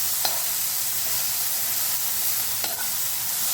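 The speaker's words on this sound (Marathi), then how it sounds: "अशा प्रकारे तेलात फ्राय करून घ्यायचा टॅमॅटो" Chopped tomatoes fry in hot oil in a pan for sambar, giving a steady close hiss of sizzling with a couple of brief stirring scrapes, no talking.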